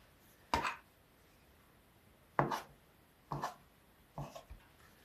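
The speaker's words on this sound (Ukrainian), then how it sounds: "І нарізаю ножем ось так такі довгенькі кусочки." Four separate knife cuts through potato dough into long pieces, each a short thud on a board with brief scraping, spaced unevenly, close and fairly quiet with no talking.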